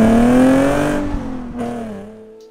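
A Nissan 370Z Nismo with a modified exhaust and a naturally aspirated high-revving engine, revving loudly and close, its tone climbing then easing off, dropping briefly and picking up again before fading.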